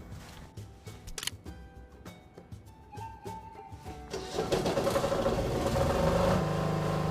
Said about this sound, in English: I'm told even the generator sounds different now.